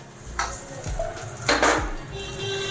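Metal utensils clank against a pot as hot tempering is poured into spring onion kanji and stirred, with brief sizzling and scraping, close up.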